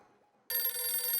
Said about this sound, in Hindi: ओहो, अभी सोडी का फोन